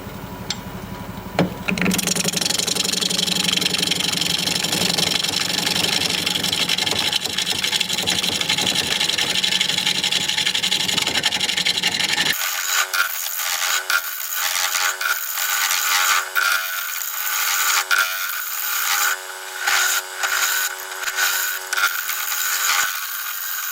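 Wood lathe with a chisel turning a dirt-packed root ball, a continuous loud rough scraping and whirring that changes character midway into choppier, pulsing cuts with no talk.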